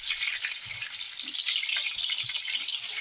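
Pork pieces frying in hot oil in a pan over low heat, a steady close sizzle and crackle that runs evenly throughout with no talking.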